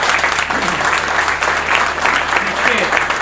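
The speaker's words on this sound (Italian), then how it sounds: "fare un grande applauso ai sindaci" An audience at a conference presentation in Cassano, Calabria, applauds the mayors with steady, dense clapping that carries through the whole stretch, with a low hum underneath.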